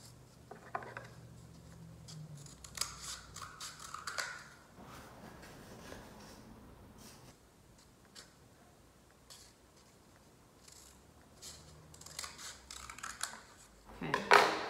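Scissors cut a small paper towel tube in half, with several close crunching snips and rustles of cardboard scattered through a quiet stretch and a sharper burst at the end.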